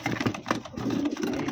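A pigeon coos in low, repeated murmurs while being packed, close by, with light handling and rustling noises running through the short stretch.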